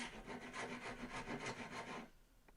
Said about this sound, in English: So now I could take a rasp and just remove any rough material in those grooves.